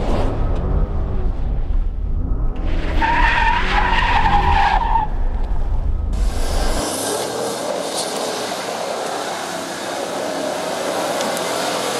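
A hot rod car skids through spins, its tyres screeching loudly and continuously with engine noise mixed in, first behind a revving engine and then as a sustained hissing screech.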